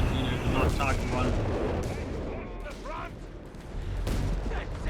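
Marked-target artillery barrage in Company of Heroes 3, with broadband rumbling impacts and sharp cracks rolling on across the whole stretch, loud and dense, while a voice talks over the bombardment.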